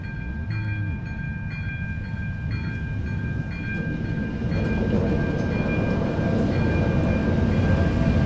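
A freight train rolls past on railway tracks close by, a loud continuous rumble with rhythmic wheel clatter and metallic squeals that build as the wagons pass, with no talk.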